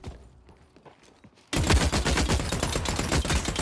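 Gunfire in the video game The Cycle: Frontier starts as scattered distant shots and then bursts into sustained close rapid automatic fire, loud and dense until the end.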